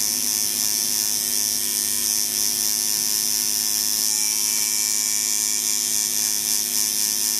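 Steady electric buzz of a tattoo machine running during mag shading, a constant high whine with a faint hum underneath, close and unbroken, with no voices.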